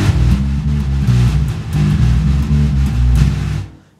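A blues picking pattern on bass guitar repeats as a loud, close, low rumbling run of plucked notes in a steady groove, then fades out at the end.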